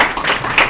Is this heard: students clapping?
yes